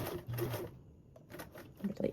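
A sewing machine stitches a duffle bag binding in a short close whirring run that pauses briefly and then starts again.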